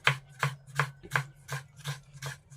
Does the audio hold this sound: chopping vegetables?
yes